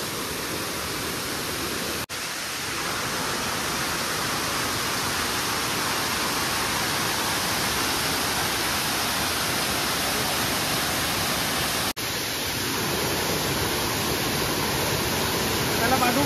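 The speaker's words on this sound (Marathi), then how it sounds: "फ्लोमध्ये वरती पाऊस पडत असल्यामुळे पाणी जास्त फ्लोमध्ये आहे" A rain-swollen hillside stream rushes strongly in a steady, loud broadband roar that fills the whole clip, with two brief dropouts breaking the continuous flow.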